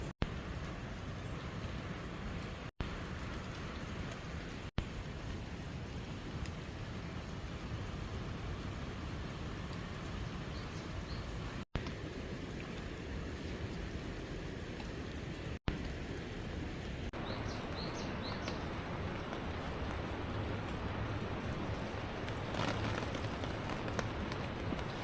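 Steady rain falls in a fruit orchard with apricot and apple trees, a continuous close hiss of drops on leaves and surfaces running throughout without any talk.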